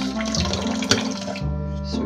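Tap water runs steadily into a kitchen sink as rice is being washed, a continuous close rushing splash with a faint tonal hum underneath.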